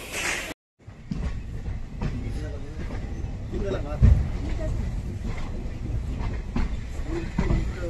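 A train from Mysore to Bangalore rumbles steadily along with rhythmic clatter from the rails, a continuous close rolling noise after a brief silence at the start.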